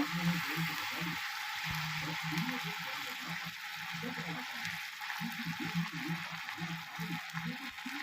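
Spice paste being fried down in a pan for a silver carp fish curry, giving a steady broadband sizzle throughout, with a low voice murmuring faintly underneath.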